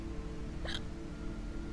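A single short hiccup from a patient character in the video game Quarantine Zone, heard once and faintly over a quiet, steady background hum.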